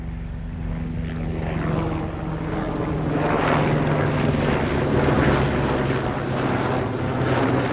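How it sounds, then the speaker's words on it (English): A helicopter passes over a Maui bamboo forest, its rotor thump and engine roar building loudly and steadily overhead, heard alone with no talking. "here comes the helicopter."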